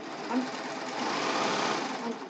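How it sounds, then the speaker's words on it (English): Serger running on a ruffled pillowcase project until its threads run out, a steady close mechanical whir with fast rattling stitching, continuous and fairly loud throughout. "all I did was I ran the machine until those threads ran out"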